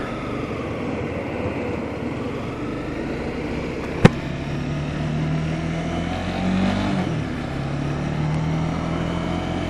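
A 2015 Honda CB300F motorcycle riding in traffic gives a steady, loud engine drone with wind rush throughout, one sharp click near the middle, and a brief pitch shift as the revs change later on.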